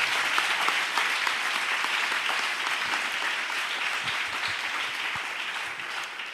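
A church congregation breaks into sustained, dense applause during an evening worship service, a steady roar of clapping that fills the room from start to finish without spoken words.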